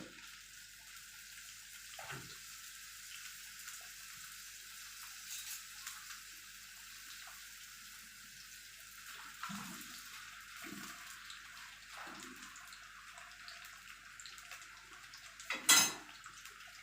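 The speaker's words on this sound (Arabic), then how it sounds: "دلوقتي الزيت اتقلح اهو، سامعين صوته. انا هحط حبه بطاطس اهو" Potatoes fry in hot oil in a home kitchen, a steady soft sizzling hiss running throughout, with a few light clinks and bumps of utensils against the pan.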